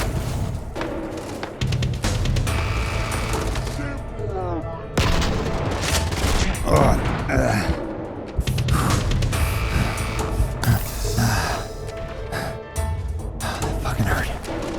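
Shotgun blasts and heavy gunfire ring out during a firefight in the video game Starfield, loud, dense and continuous, with booming shots and impacts layered under voices.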